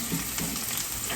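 Chicken pieces sizzle on a hot grill pan, a dense, steady, close frying crackle with no pauses and no voices.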